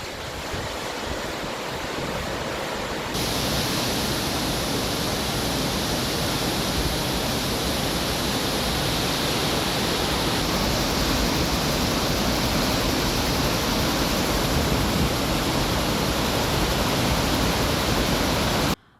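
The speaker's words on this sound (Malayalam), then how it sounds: "കനത്ത മഴയെ തുടർന്ന് മലമ്പുഴ ഡാമിന്റെ ഷട്ടറുകൾ തുറന്നു." Water pours through the opened shutters of Malampuzha dam after heavy rain, a loud, continuous broadband roar that swells fuller after the first few seconds and holds steady with no voices.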